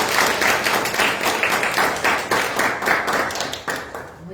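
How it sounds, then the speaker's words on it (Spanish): Audience applause welcoming a speaker onto the stage at a talk on the neuroscience of mindfulness meditation: a steady, dense crowd clapping that holds for several seconds before starting to thin out. "le damos un aplauso para recibirla"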